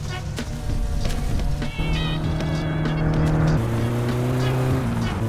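Car engine in the driving game My Summer Car revving hard on a highway, a loud sustained roar with rising harmonic tones and a gear shift midway, continuous and close throughout.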